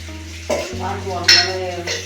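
Mustard seeds and spices sizzle steadily in hot oil while tempering for rasam, a continuous crackling hiss with a few clinks, over a low hum and faint background music.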